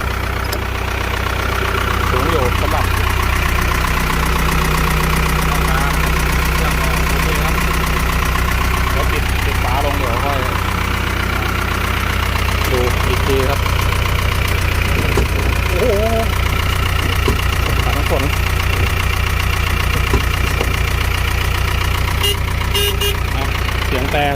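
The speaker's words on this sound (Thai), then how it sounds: "แล้วก็ลองเครื่องยนต์นะครับ" A large diesel engine of an Isuzu KS 110 truck idles loudly and steadily throughout, a deep continuous rumble with someone talking intermittently over it.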